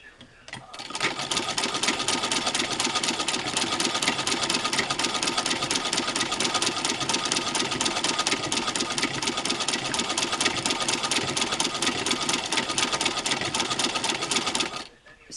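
A Singer 15-88 sewing machine fitted with a zigzagger attachment runs steadily at a fine stitch length, a rapid, even mechanical chatter that starts after a moment and holds constant for over ten seconds before stopping, close and alone.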